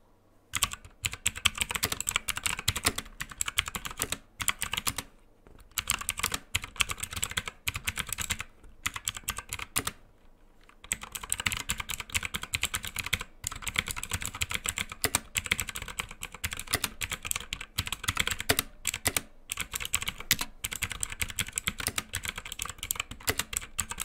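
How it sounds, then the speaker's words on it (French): Rapid, crisp clicking keystrokes from a Drevo Calibur mechanical keyboard with blue switches, typed in continuous bursts with a few short pauses, close and fairly loud. "j'ai pris des switches bleus et je vais vous faire un peu écouter le bruit que ça fait"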